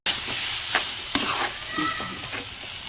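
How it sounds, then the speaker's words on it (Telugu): Onions sizzle and fry in a pan for egg curry while a spoon stirs them, with a steady frying hiss and a few sharp scraping strokes against the pan, close and without talk. "మంచిగా అట్లా మధ్య మధ్యలో కలుపుకోవాలి, లేకపోతే ఇంకా కింద అడగంటుతుంది కదా"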